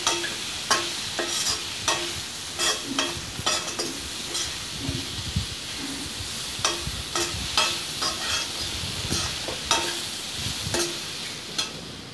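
Mixed vegetables, salted, fry in a pan while a utensil stirs them, with frequent scraping clinks and taps over a constant soft sizzle, close and without speech.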